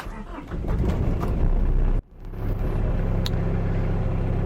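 A diesel engine cranks on a cold start and catches, then idles with a steady low rumble close by after a brief pause; the engine has a fault where it won't rev.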